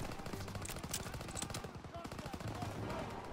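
Steady machine-gun fire in the game Call of Duty WW2, a continuous rattling stream of rapid shots, fairly quiet in the mix, with a faint voice underneath.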